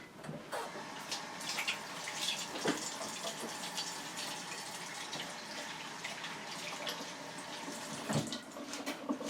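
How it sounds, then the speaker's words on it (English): Tap water runs steadily into a kitchen sink as hands are washed, a continuous splashing rush with a few louder splashes, close and moderately quiet, no talking. "Let me wash my hands."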